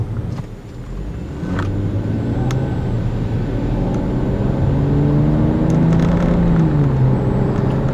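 A 2008 BMW 535i with a twin-turbo 3-liter straight-six engine driving, a steady loud cabin drone of engine and road noise that swells slightly as it pulls, continuous and close, with no talking.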